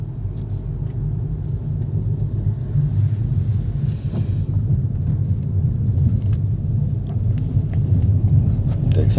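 Inside a Hyundai Nios, the car moves off slowly as the clutch is let out. A continuous deep engine drone builds gradually under a speaking voice.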